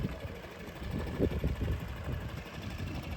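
A passenger boat's engine idles nearby with a low, steady chugging rumble that swells briefly partway through and then settles back into an even throb.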